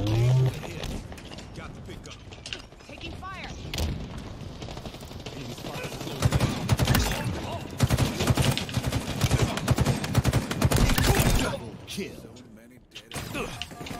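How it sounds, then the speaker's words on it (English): Rockets and gunfire in the video game Halo Infinite, a dense run of rapid shots, bursts and mechanical clatter building to a loud stretch before easing off, with a player's voice talking over parts of it. "they're shooting rockets at me"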